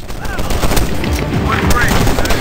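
Rapid gunfire from a helicopter in the video game Medal of Honor Warfighter, loud and close with bursts of shots and booming impacts packed into a short stretch, a voice talking over it.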